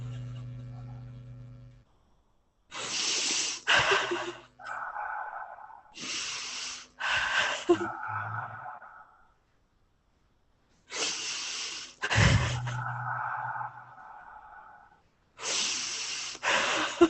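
Heavy, emotional breathing during a guided breathwork session, a series of long, forceful exhales in roughly regular bursts separated by short pauses, close and loud with no talk over them.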